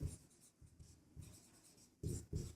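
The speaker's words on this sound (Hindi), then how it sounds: "तो यहाँ लिखेंगे" Chalk or marker writes on a board during a maths lesson, a series of short scratchy strokes in uneven rhythm, close and quiet, ending with two louder strokes.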